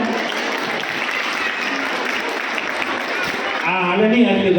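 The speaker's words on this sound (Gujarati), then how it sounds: "આપણે માટે પણ એક જોરદાર તાળીઓ થઈ જાય." Sustained, dense applause from the audience at a Rajput Samaj prize ceremony rolls on for several seconds, then a voice comes up over the clapping near the end.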